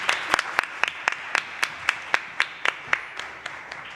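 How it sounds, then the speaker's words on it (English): A small audience claps at a King's College London networking talk for early career researchers: a sparse, steady run of sharp, distinct hand claps, fairly close and moderately loud, with no voices over them. "So please, can we have a round of applause?"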